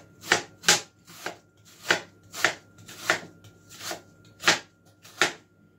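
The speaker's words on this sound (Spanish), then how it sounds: "voy a cortar la cebolla" A knife chops an onion into thin julienne strips on a board, about ten crisp, evenly spaced strikes in a steady rhythm, close and clear with no talking.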